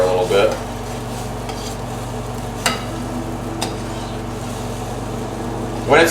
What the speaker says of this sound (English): I'll just mix the concoction together a little bit.